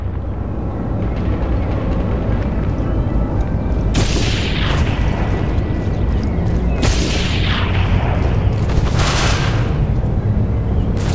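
Grenade explosions and gunfire in the shooter game Ghost Recon Phantoms: loud booming blasts land around four, seven and nine seconds over a dense, continuous rumble of combat noise, with no voices.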